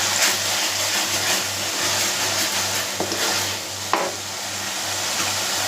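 Onions sautéing in a pan and being stirred, a steady frying hiss with a low rhythmic scraping pulse and a couple of sharp utensil knocks, close and continuous with no talking.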